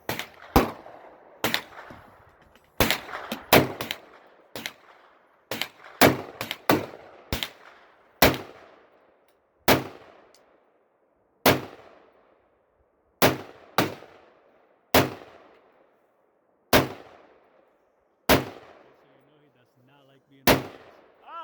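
Gunshots from an AR blackout, a 7.62×39 rifle, a Glock .40, a Taurus .410 revolver and a .45 fired outdoors, about twenty loud sharp cracks with ringing decay, clustered early then spaced out at steady intervals.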